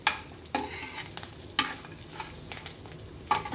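Tempering of seasonings and curry leaves for sesame chutney fries in a pan, a quiet low sizzle broken by several sharp stirring scrapes and taps of a spoon against the metal at irregular intervals.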